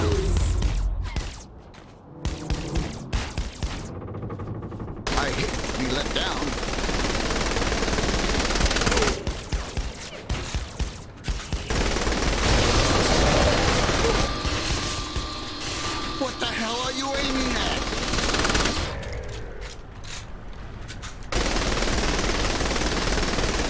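Gunfire in the video game Saints Row: The Third, loud bursts of rapid machine-gun fire with short pauses between volleys, close and dominant, with voices talking in places.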